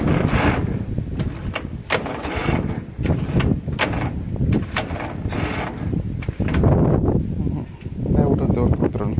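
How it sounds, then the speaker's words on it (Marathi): A tractor engine is cranked with a newly connected starter, producing loud, close, rhythmic chugging bursts that repeat through the whole stretch without fully settling into a running idle. "आपलं स्टार्टर जोडून झालंय आपण ट्रायल मारून बघू ट्रॅक्टर चालू होतो"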